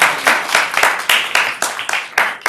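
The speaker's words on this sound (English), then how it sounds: "Give me a round of applause." An audience at a law-career talk claps in response to a show-of-hands question, rhythmic bursts of group clapping in roughly regular pulses, fairly loud and close, with no speech over it.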